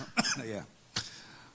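A person speaks briefly in Korean during a Friday prayer service, then a single short cough breaks in, followed by a quiet pause and a faint sound at the end.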